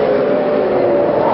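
A USAC/CART open-wheel race car at Brands Hatch in 1978, its engine droning steadily and loudly as it comes into the pits, with a sustained high-pitched tone and no voices over it.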